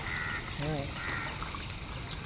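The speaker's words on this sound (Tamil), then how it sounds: "இந்த சிட்டுக்குருவி அடிக்குதே." A sparrow chirps faintly outdoors in Kuala Lumpur in a few short, high calls over a constant low background hum.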